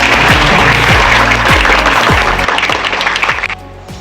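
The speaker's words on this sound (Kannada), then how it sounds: "ಎಲ್ಲರಿಗೂ ಈ ಸಲ ಜೋರಾಗಿ ಚಪ್ಪಾಳೆ ಕೊಟ್ಟು" A room of students at a hostel freshers party applauds loudly, dense clapping holding steady before thinning and stopping abruptly near the end.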